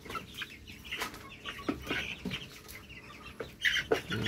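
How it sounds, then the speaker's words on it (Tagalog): Native chickens, a Rhode Island crossbreed flock, cluck and murmur in a yard, with scattered soft clucks and a few sharper calls near the end, fairly close and without talk. "Ito naman guys yung mga native chicken ko guys."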